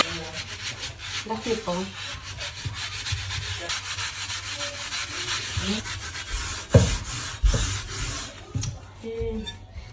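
Metal cauldrons being scrubbed clean with a sponge and laundry soap, a steady close rubbing and scraping texture that runs throughout with a few sharper knocks, while a voice speaks briefly.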